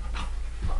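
A dog panting during trick-training practice, a short burst of quick breaths heard close by with no talk.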